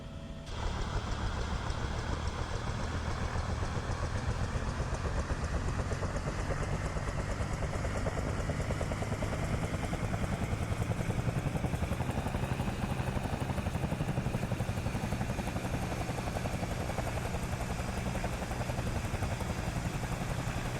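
Bell 222B helicopter engine spooling up in MSFS 2024, a loud, steady turbine whine and drone that runs unbroken for about twenty seconds and rises slightly in pitch partway through.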